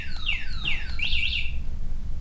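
An alarm on a Maike KK10s electric scooter sounds in a short burst of falling then warbling electronic chirps, fairly close and alone.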